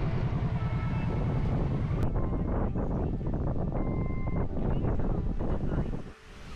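Strong wind gusts buffet a microphone outdoors during a motorcycle ride filmed by an AI follow drone, a steady loud rumbling roar that persists throughout and briefly dips near the end.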